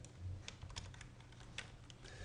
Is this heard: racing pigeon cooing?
no